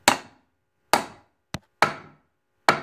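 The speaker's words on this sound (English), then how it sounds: "I forgot to film myself hammering in the pins." Pins hammered into the arm of a handmade wooden book press: five sharp, distinct wooden strikes at irregular spacing, each a loud close knock with a short decaying ring, one of them quicker and lighter.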